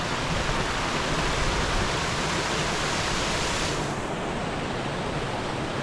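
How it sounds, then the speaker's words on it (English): Flowing stream water by Haweswater in the Mardale Valley, a steady broad rushing wash, loud and close, continuous throughout with no voices. "We love being sat next to flowing water, very therapeutic."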